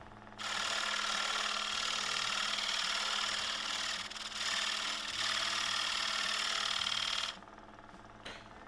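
A gouge held as a negative rake scraper cuts on a spinning wood lathe, giving a loud, steady broadband hiss that runs continuously for about seven seconds, dipping briefly twice as the tool is eased, then stopping abruptly.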